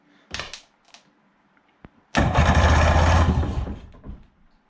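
A Sea-Doo jet boat engine is cranked over, with a short mechanical burst and a few clicks, then a loud, steady whirring crank lasting about two seconds before it stops.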